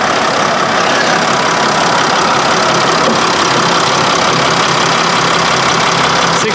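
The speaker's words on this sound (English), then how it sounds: "You know he's got the generator running now, right?" An RV generator running, a loud, steady mechanical drone with a continuous engine hum that stays even from start to end, close and with no talk over it.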